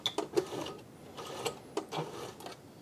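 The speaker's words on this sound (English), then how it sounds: "Before I actually sew with it, I like to do some hand winding." A Hobbylock 776 overlocker is turned slowly by hand with its thread and tension discs set, giving soft, close, irregular mechanical clicks and ticks, quiet and alone.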